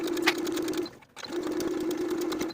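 A sewing machine runs a steady, fast stitching hum along a sleeve seam with a 5/8 inch allowance, stops briefly for a pivot, then picks up the same even whirr close by.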